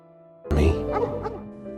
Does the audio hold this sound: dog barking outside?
yes